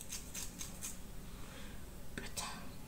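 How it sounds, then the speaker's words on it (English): Scissors snip through a wig fringe in a quick run of four close cuts, then a couple more, faint and crisp against low background noise. "I want to cut it again."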